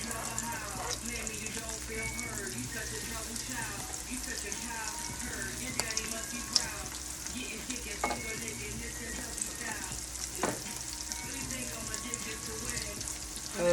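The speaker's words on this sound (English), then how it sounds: "this oil is on medium. Not too hot. You can see it's not smoking, but it does get a nice sizzle." Food sizzles steadily in hot oil on medium heat, not smoking, a continuous close crackle and hiss with occasional pops, lasting the whole time.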